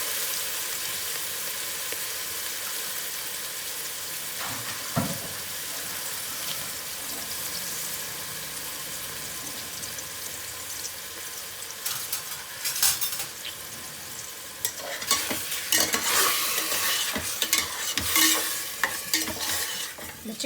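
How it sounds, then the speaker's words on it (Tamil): Chicken pieces sautéing in hot oil over a full flame, a continuous loud sizzle with intermittent scraping and stirring of a metal spoon against the pan, growing busier and harsher toward the end. "இந்த எண்ணெயிலே வந்து இந்த சிக்கனை வந்து வதக்கணும்"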